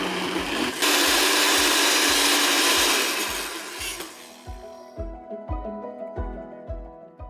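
Blender grinding chickpeas into a coarse falafel mix, a loud dense whirring that runs steadily and then breaks into a series of choppy, pulsing bursts as it winds down.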